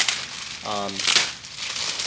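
Crinkling and rustling of an unpadded plastic shipping bag from Amazon, close and fairly loud, with a voice briefly speaking over it.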